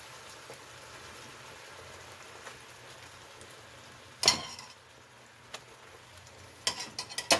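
Turkey Spam in teriyaki marinade sizzles quietly in a pan as a faint, steady hiss, with a few sharp clatters and spitting bursts of pan noise toward the middle and end.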